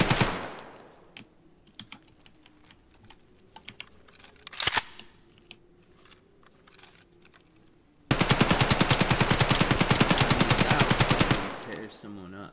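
An AK-74 fires in Escape from Tarkov, a loud, rapid automatic burst lasting a few seconds, preceded by quieter clicks and a single sharp shot.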